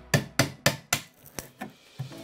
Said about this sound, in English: now I'm going to get a small chisel and I'm just going to take a few little edges off